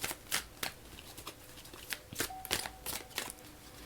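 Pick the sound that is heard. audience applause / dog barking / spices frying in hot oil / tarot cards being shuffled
tarot cards being shuffled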